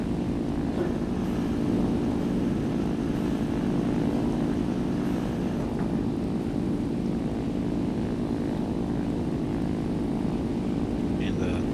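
Propeller airplane engine in a flight video game drones steadily and loudly during takeoff, a continuous even roar with no pauses.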